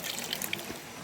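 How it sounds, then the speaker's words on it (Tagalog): Hands are washed under clear waterfall water at an outdoor falls, giving a soft, continuous splashing trickle with small bright drips, faint and alone. "maghuhugas tayo ng kamay guys"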